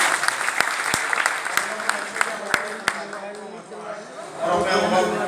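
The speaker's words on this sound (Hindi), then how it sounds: "एक बार जोरदार ताली सर" Audience applause at a gathering honouring board exam merit list achievers, a crowd clapping with sharp individual claps under someone speaking loudly over a microphone.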